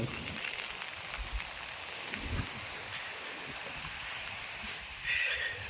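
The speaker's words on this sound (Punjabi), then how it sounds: "ਮੀਂਹ ਅਜੇ ਵੀ ਆਉਣ ਡਿਆ ਅਜੇ ਹਟਿਆ ਥੋੜਾ ਛਿਟਾ ਅਜੇ ਵੀ ਆਉਣ ਡਿਆ" Steady rain patters softly over an open area after many hours of continuous rain, a continuous gentle hiss with faint rustling and no voices.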